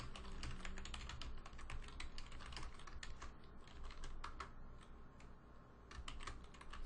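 Steady, fast typing on a computer keyboard, close and clear, with dense rapid key clicks running throughout and a brief lighter stretch near the end; no talking.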